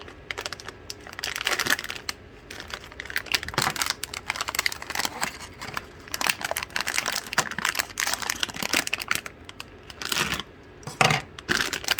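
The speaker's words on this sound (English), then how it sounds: "Let me go ahead and rip this open using my teeth" Someone tears open plastic packaging with their teeth, unboxing a LattePanda V1 single-board computer, producing a close, steady run of crinkling, crackling and tearing sounds with sharp bursts for about twelve seconds.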